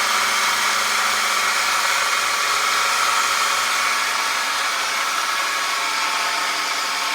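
An Atec Casey Pro pitching machine running at full speed, a loud steady mechanical whir with a low rhythmic pulse underneath, continuous throughout without any pause.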